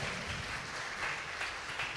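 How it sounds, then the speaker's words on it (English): A church congregation claps during a Sunday worship service, a soft, steady wash of applause heard from a distance for a couple of seconds. "Let's just clap for them."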